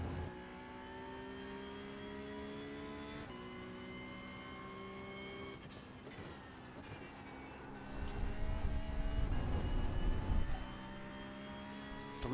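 Porsche 911 Cup (992.2) race car in a sim-racing game at Hockenheim, engine revving up out of a corner; a steady harmonic drone rising into a louder, rougher surge toward the end, no talk.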